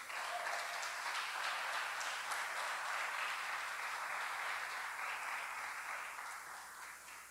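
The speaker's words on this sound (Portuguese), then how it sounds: "Você pode aplaudir a Ele por isso?" A church congregation applauds for God during a sermon with a dense, sustained wash of clapping from many people, steady for several seconds before tapering at the end, fairly quiet overall.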